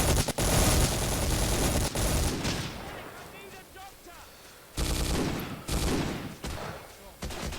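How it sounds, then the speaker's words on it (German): Bursts of gunfire crack from Hidden & Dangerous 2 during a WWII-style fight at a Sicilian bridge. Dense volleys at the start give way to a quieter stretch, then heavy automatic fire returns near the end. "Wer schießt da?"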